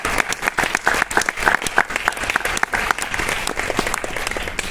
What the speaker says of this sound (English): I think we need to give her a very big applause for that.